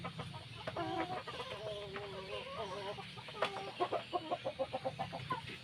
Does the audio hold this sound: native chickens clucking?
yes